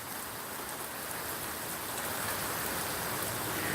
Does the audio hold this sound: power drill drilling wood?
no